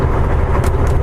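A truck roars past on the road, a loud continuous engine and tire rumble heard from inside a moving truck cab, with brief hissing bursts of passing air.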